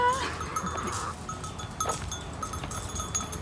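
Lambs bleating with several short calls over a steady outdoor background of livestock noise and faint clanking.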